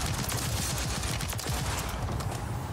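Rapid gunfire from a powerful weapon in the game Zombie Royale, a dense, continuous burst of loud shots running steadily through the whole stretch with no voices.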